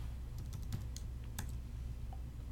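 Scattered keystrokes on a computer keyboard, soft individual taps at an irregular pace over a steady low background hum, fairly faint and close.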